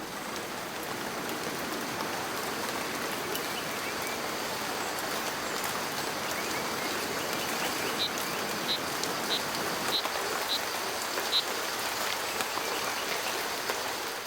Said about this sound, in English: as much rain may fall in an hour as some countries may see in a whole year